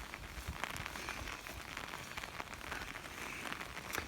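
Steady, dense rain pours down outdoors in Minnesota, falling harder as wind picks up, a continuous hiss and patter with scattered drop impacts and no voices.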